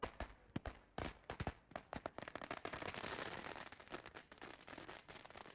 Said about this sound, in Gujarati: ભાજપના કાર્યકરોએ ફટાકડા ફોડી વડાપ્રધાન નરેન્દ્ર મોદી અને સાંસદ સી.આર. પાટીલને શુભેચ્છા પાઠવી હતી.